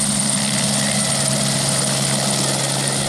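A helicopter carrying an emergency disaster control team to Malam village drones loudly and steadily throughout, a close, continuous rotor and engine roar with no gaps.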